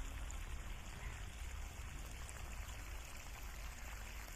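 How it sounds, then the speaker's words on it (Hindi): Water pours steadily onto freshly planted onion and chilli beds in a vegetable plot, a continuous rushing flow that stays even and fairly close throughout with no voices. "तो उनको पानी यहाँ से लगा रहा हूँ"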